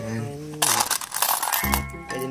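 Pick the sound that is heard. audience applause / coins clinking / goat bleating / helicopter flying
coins clinking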